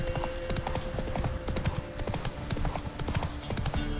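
Roach the horse gallops in The Witcher 3, a fast, steady drumming of hooves that runs throughout, close and continuous.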